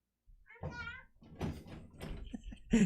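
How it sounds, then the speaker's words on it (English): A young boy bangs on a locked door at home, a few dull thumps mixed with his raised voice and adult talk, the loudest knock landing at the end. "He's banging on the door."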